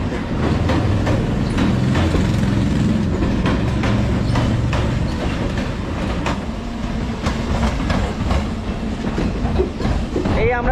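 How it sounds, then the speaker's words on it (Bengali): A local train passing alongside a moving Kanchenjunga Express, heard from inside the express as loud, close rumbling with rhythmic clickety-clack and broadband rushing noise, steady throughout, with a voice speaking faintly beneath. "এই পাশ দিয়ে কোনো লোকাল আমাদের ওভারটেক করছে"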